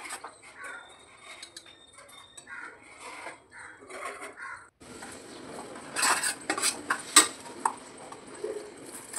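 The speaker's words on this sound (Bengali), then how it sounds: "ভালো করে নাড়াচাড়া করে নিচ্ছি।" A metal spoon stirs palak paneer in a pan, with soft scraping at first, then brighter clinks and taps against the pan growing louder and more frequent toward the end.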